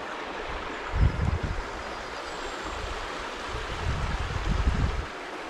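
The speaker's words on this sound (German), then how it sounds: "Lauscht mal den schönen Wasser." Flowing water outdoors in nature: a steady, close rushing sound with low, rumbling swells that rise and fall, and no one speaking.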